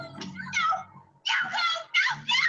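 Cat-like meowing from a Doctor Who television episode: a series of drawn-out, wavering cries in several bursts with short gaps, close and moderately loud.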